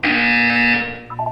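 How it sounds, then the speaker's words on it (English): A loud buzzer in the Portal video game blares as one sustained harsh tone for almost a second, then cuts off and leaves a few fainter tonal blips behind it. "When you hear the buzzer, look up at the ceiling"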